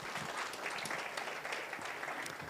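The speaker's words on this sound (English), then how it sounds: "Another round of applause for Madam Christine." Steady applause from a crowd, a continuous dense patter of many hands clapping at moderate volume with no talking over it.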